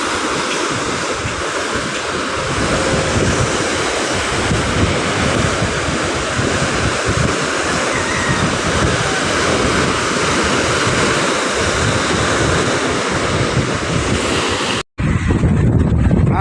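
Sea waves wash continuously onto the shore of Manila Bay at Navotas, a loud steady surf roar mixed with wind buffeting the microphone, broken by a brief cut near the end.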